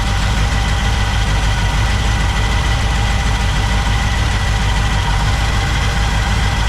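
A barn-find 1964 Pontiac Catalina V8 idles steadily, a loud, close, continuous low rumble with even pulsing and no change in pace, heard alone without talk.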